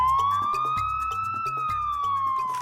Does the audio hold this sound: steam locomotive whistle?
no